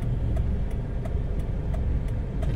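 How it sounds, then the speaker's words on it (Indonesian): A three-cylinder 1000cc Daihatsu Ayla engine idling steadily with a low, smooth hum and faint regular ticking, close by. "suara mesin juga Lebih halus kan?"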